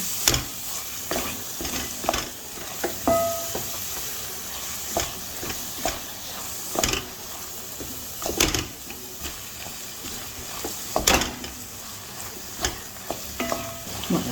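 Spice masala sautéing in oil in a home kitchen, a continuous crackling sizzle broken by repeated scraping and clanking of a spoon stirring against the pan.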